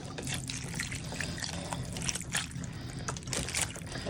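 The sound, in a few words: liquid poured into beef stew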